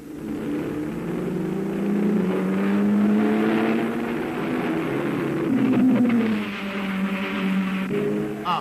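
Jaguar race car on the 1968 Le Mans circuit near the Mulsanne corner, engine note rising and falling through gear changes, a loud sustained drone passing close with no talk.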